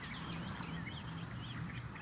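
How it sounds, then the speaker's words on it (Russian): Ducks calling outdoors at a lake where people hunt and fish, a busy chorus of quacks and chatter at moderate distance, set against constant open-air background noise. "Это утки, да?"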